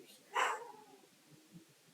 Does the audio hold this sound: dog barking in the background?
yes